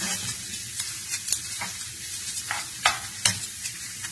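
Onions sautéing in ghee give a steady close sizzle, broken by irregular scraping strokes of a spoon stirring them through the pan, with no voices.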